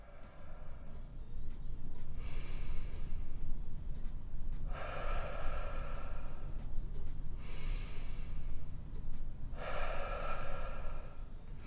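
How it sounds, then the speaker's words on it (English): Slow, deep breaths drawn in and let out during a posture-correcting upper body exercise, four long airy swells spaced a few seconds apart over a steady low background hum, close and fairly soft. "focus on breathing in and out as deeply as you can"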